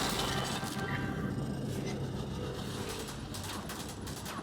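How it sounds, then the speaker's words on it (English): Dense, continuous gunfire in Helldivers 2 with sharp metallic cracks and clanks, loud and steady throughout, rounds pinging off heavy armor. "That's the sound of heavy armor."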